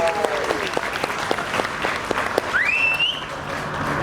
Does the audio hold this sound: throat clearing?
no